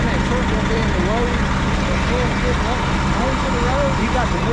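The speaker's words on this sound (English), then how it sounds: "That truck gonna be in the road." A truck engine idles on a rainy roadside, a steady low rumble running the whole time beneath light pitched tones, with people talking over it.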